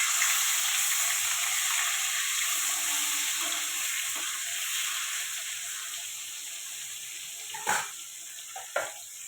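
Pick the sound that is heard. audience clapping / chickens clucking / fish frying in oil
fish frying in oil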